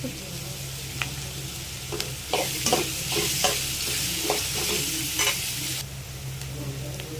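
Mint leaves sautéing in a pan for mutton kulambu, a constant sizzle under a low steady hum, with a run of clattering spoon strokes against the pan in the middle.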